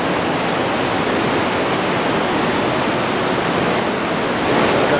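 A river of hot water rushes beneath a small footbridge at Aguas Calientes near Machu Picchu, a steady, dense roar of flowing water that stays close and loud throughout, with no voices.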